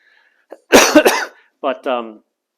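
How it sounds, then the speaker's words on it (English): A couple of sharp, rough coughs close by, followed by a short bit of voice. "I still have a little cough"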